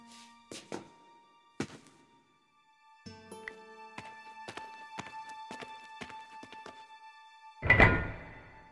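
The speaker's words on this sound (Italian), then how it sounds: "Diedi un'altra spinta alla statua." In the video game Broken Sword 5, a heavy stone statue is shoved, giving a string of wooden thunks and knocks that build into a rumbling grinding scrape near the end, heard alone at moderate volume.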